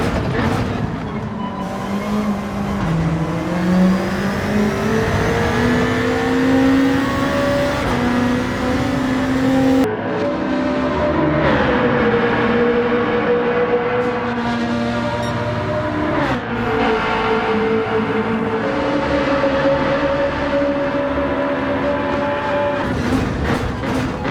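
Gran Turismo 7 race cars scream through a Manufacturers Cup race at Deep Forest, with a BMW overtaking. Loud engines rise and fall through gear changes and there is a sharp shift partway through.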